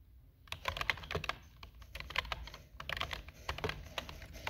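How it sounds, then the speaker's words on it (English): Rapid, uneven clacking of a computer keyboard being typed on, a steady stream of crisp keystrokes heard close and fairly quiet, with no talking. "you're listening to satisfying keyboard"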